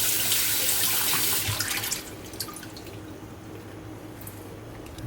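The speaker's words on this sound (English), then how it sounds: "Give it a rinse." Water runs steadily from a kitchen tap to rinse a cleaned squid, a close, continuous splashing stream that softens a little partway through, with no talk.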